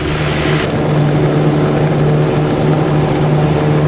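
Small single-engine aircraft at full power rolling down the runway on takeoff, a loud, steady propeller and engine drone filling the cabin with no voices.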